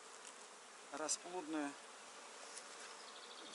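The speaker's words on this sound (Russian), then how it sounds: "Видите, пчелки выходят, вот уже выходят." Honey bees crawl and fly out of a hive while colonies are being split, making a faint, steady buzzing throughout, with one brief spoken word near the start.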